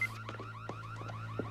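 A car alarm sounds nearby, a rapid repeating electronic whoop cycling through quick rising sweeps and chirps over a steady low hum, loud and alone without speech.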